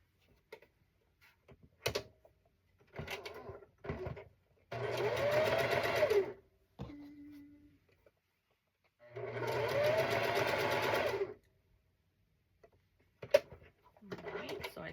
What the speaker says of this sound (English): I'm going to go ahead and stitch over here.